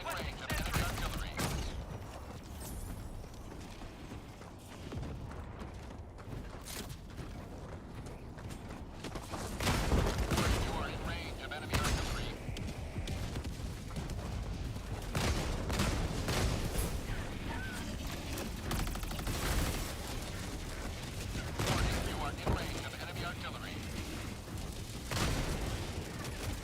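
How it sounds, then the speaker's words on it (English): Sustained battle din of enemy artillery fire in an online war video game, with repeated booms, blasts and gunfire bursts layered into a dense, loud, continuous barrage, overlaid by a voice talking. "Warning, you are in range of enemy artillery."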